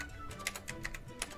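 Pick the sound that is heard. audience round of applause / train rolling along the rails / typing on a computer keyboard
typing on a computer keyboard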